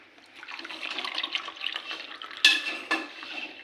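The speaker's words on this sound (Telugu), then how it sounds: "1 గ్లాస్ నీళ్లు పోస్తాం" Water poured from a glass into a metal pot for making tea, a steady close splashing pour that ends in two sharp clinks of the glass against the vessel.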